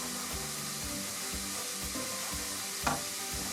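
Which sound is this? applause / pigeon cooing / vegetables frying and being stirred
vegetables frying and being stirred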